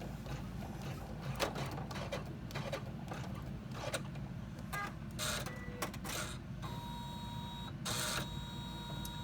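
An embroidery machine stitching a pleat on vinyl for an in-the-hoop bag, a steady rapid mechanical whirring and clatter with intermittent sharper clicks and thumps throughout, moderately quiet.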